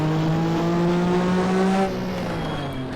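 A 1.5-litre racing car engine with the turbo disabled in a racing video game, holding a loud, steady high-revving drone before the revs drop slightly near the end, with no talk.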